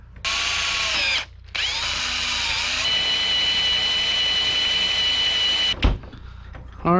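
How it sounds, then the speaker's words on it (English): A power drill whines steadily while drilling a quarter-inch hole down the center of a metal brake pedal, pausing once briefly before resuming and grinding on at high pitch, close and loud, then stopping. "which means drill a quarter inch down the center here"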